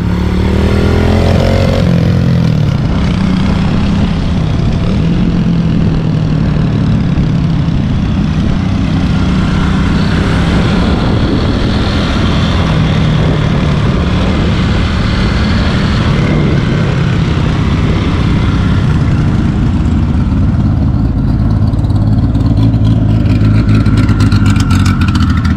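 A Volkswagen Gol accelerates hard at a drag race, its loud engine roar sustained and building throughout, mixed with crowd and track noise nearby.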